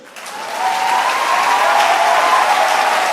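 A church congregation applauding, the clapping swelling from quiet to a steady, full roar of many hands with a faint sustained tone beneath, lasting throughout.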